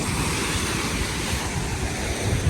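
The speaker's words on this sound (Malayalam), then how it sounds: "കടൽ ഭയങ്കര രോക്ഷമാണ്." Rough sea waves churn steadily at Anjuna beach in Goa, a loud continuous surf roar mixed with wind noise on the microphone.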